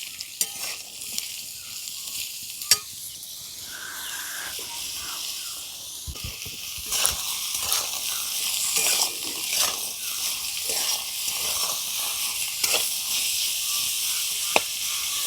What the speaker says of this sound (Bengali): সবজিগুলো ভাজা হয়ে গেছে